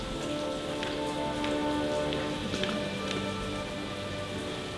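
Steady rain falling at Lake Como, a dense continuous patter on surfaces with scattered louder drops, close and even throughout with no talking.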